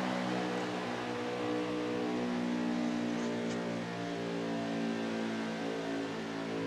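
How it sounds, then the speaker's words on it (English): Racing truck engines in a video game race at Auto Club run as a steady, sustained droning whine, several engines blending into one continuous hum at a moderate, even level. "Hear them engines wind down when they come up in the turn two."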